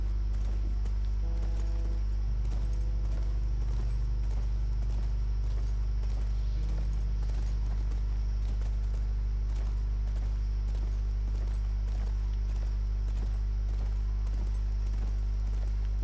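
Steady hoofbeats clip-clop along at an even walking pace over a constant low hum, with no voices, in the video game The Last of Us Remastered.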